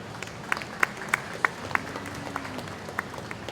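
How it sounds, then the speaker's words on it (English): Crowd applause for a cattle show judge in a Brown Swiss show at the New York State Fair: a few seconds of scattered claps, with several sharper hand claps standing out over a steady hum of the crowd. "Would you please give him a round of applause and welcome him to New York?"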